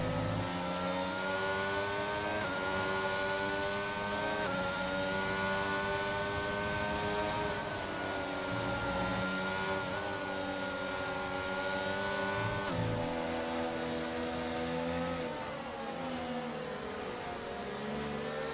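Engines of Formula 1 race cars in a racing video game at the Miami circuit, droning steadily and loud with rising and shifting revs throughout, a continuous high-pitched whine layered without pause.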